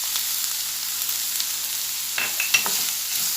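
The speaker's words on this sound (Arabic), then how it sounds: "نحركوها مزيان" Onions and peppers are stirred as they fry in a pan, a soft, continuous sizzle with a few light scraping strokes of the spoon near the end.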